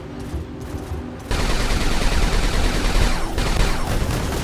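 Robot cannon fire in the War Robots video game: a dense, sustained barrage of gunfire that surges loud after a quieter opening and keeps rattling steadily to the end, with no talk.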